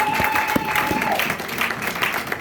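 A church congregation at a Pentecost Sunday service claps together in a short burst of steady, fairly close applause, with a faint voice underneath.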